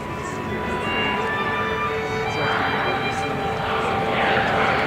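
Lockheed T-33 Shooting Star jet trainer flying at an airshow, a steady loud engine roar that swells slightly as it passes, with no talk over it.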